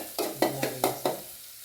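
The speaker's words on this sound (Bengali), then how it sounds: "এইদিকে আমি রান্না করতেছি দেখেন।" Vegetables cook in a hot pan as a utensil stirs them in four quick, rhythmic sizzling strokes, close and fairly quiet, fading out at the end.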